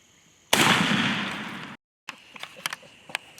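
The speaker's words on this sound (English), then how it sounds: "Shoot him." A shotgun blast fired at a turkey during a spring turkey hunt booms once, loud and close, with a long decaying tail, followed by silence and faint scattered rustling outdoors.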